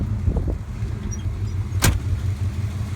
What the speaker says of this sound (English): Look at that smooth running 305, folks. Smooth running.